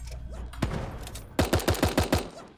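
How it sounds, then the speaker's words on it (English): Gunfire in the video game Super Animal Royale: an initial lone shot, then a rapid burst of about eight evenly spaced, punchy shots fired close by. "Oh my god, the dude just got gunned down."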